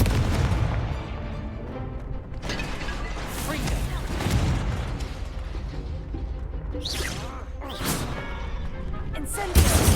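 Confringo blasting spell fired during a duel in the Hogwarts Legacy video game: booming, artillery-like blasts with whooshing bursts over a dense, continuous battle din, loud and steady for the whole stretch.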